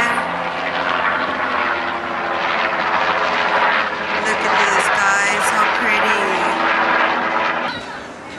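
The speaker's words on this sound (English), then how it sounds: "There's a little helicopter right there." A small helicopter's engine drones steadily nearby as it passes in New York City, with voices talking faintly beneath before the sound tapers off at the end.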